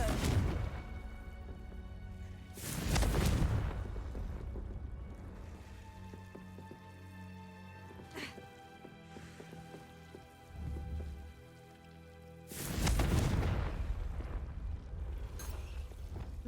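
Two loud, roaring Confringo blasting-curse bursts from Hogwarts Legacy erupt about ten seconds apart, each swelling and fading over a couple of seconds, amid steady pattering rain and a distant low rumble.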